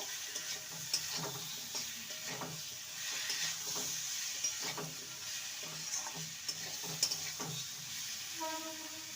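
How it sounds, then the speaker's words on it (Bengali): Green chili paste sautés in a pan with a soft, low sizzle beneath repeated scraping and tapping of a spatula stirring at an irregular pace. The sound is quiet, close and free of talk. "আর সর্ষে পোস্ত বাটার সময় একটা দিয়েছি মোট দুটো ভালো করে কষিয়ে নেব"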